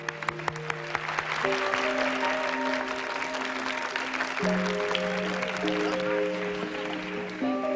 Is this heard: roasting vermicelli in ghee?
no